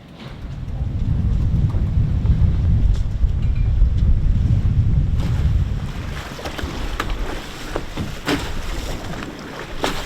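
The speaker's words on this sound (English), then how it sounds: "it is windy today." Strong wind buffets the microphone with a heavy, continuous low rumble near water, easing partway through to a lighter gusty hiss with occasional rattles; no one speaks.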